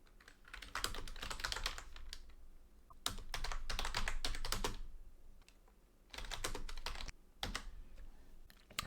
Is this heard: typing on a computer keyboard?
yes